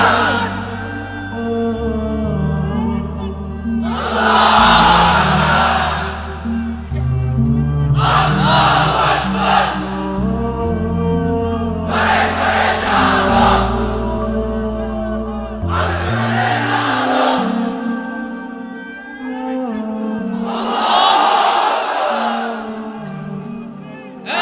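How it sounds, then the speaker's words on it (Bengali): A large crowd of unmarried men at an Islamic sermon shout the takbir in unison, loud roaring bursts of chanting repeated about five times with a preacher's amplified voice leading between them. "এবার অবিবাহিতরা দাও লিল্লাহি তাকবীর"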